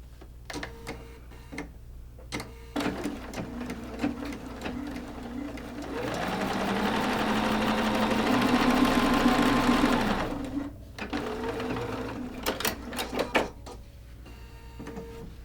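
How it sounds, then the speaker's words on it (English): A domestic sewing machine stitches fabric H pieces for a quilt block, its needle running in a steady mechanical rattle that builds to a sustained whir of several seconds, with short bursts and stops before and after. "we're going to take our fabric H's and we're going to sew them to either side"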